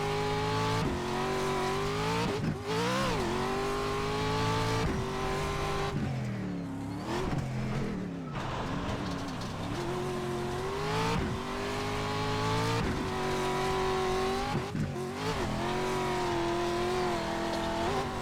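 Race car engine in iRacing pulling through a lap on a new setup: a continuous loud drone that rises and falls in pitch with upshifts and downshifts, dipping mid-lap through slower corners before climbing again, with no talk.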